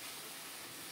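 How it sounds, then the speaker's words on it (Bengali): Water hits a hot pan of prawn and taro curry, giving a brief, steady broadband sizzle and hiss, fairly faint and unbroken. "এখন আমি জল দিয়ে দেব।"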